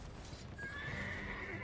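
A horse in Elden Ring gives a short, close whinny over the clatter of its hooves, heard alone without talk.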